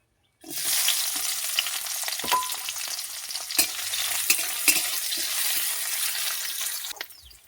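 Onion hits hot oil in a heated karahi holding a bay leaf split in two, a loud, steady sizzle that bursts in after a brief silence and runs on with occasional stirring clinks, alone without talk.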